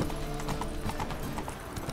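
Roach, Geralt's horse in The Witcher 3: Wild Hunt, gallops with steady, rapid hoofbeats close up over a low game soundscape, with no talking.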